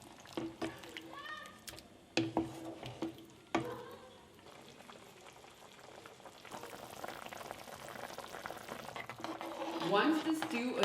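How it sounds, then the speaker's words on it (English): Spicy Rengma Naga pork stew with ginger garlic paste and chili flakes is stirred in a pot as it bubbles and simmers, with intermittent clinks and scrapes over a steady boil. "Give the dish a stir and open cook it for 10 minutes."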